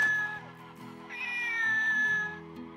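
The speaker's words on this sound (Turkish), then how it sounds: "Ha bak bir de kedi aldım." A remote-controlled toy cat meows in a long, drawn-out mew that rises partway through, close and clear with no talking over it.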